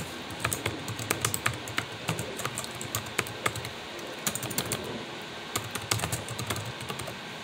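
Fast typing on a computer keyboard, close and continuous, with irregular sharp key clicks over a steady room hum.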